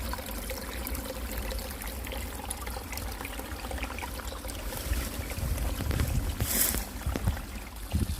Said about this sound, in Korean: 돌틈에서 졸졸졸 흘러내려오는 물이에요.